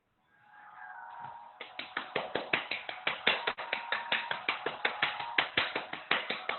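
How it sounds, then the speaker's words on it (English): Hands clapping rapidly during a Kundalini yoga exercise, a dense steady stream of sharp claps about four per second after a rubbing build-up, loud and close with no talking. "Clap your hand fast."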